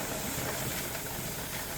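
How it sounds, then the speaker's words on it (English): A pressure canner full of vegetable chicken soup vents steam in a continuous loud broadband hiss, close and unbroken, with the weight chattering faintly beneath. "We got steam coming up, but it hasn't locked in place yet. It's doing what I call chattering"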